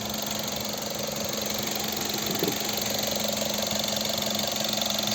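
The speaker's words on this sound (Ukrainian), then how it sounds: "звук двигуна, нічого не троїть" A 2011 Mazda 5 with a 2.0 petrol engine and automatic gearbox idles steadily with an even, continuous rumble and a faint hiss over it, running smoothly without misfire, heard close up with no talking.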